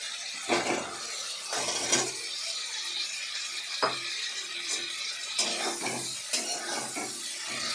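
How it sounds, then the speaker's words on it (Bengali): Fried potatoes being sautéed with spices in a pan for alur dom, with repeated scraping stirs against the pan over a soft continuous sizzle, close and moderately quiet, with no talking. "আলুর সাথে কিন্তু সমস্ত উপকরণ খুব ভালো করে কষে নেব"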